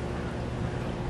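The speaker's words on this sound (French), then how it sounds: "Ouh, il y a plein de vent." Strong outdoor wind roars and buffets the microphone in a dense, steady rumble, loud and close, with no talk heard.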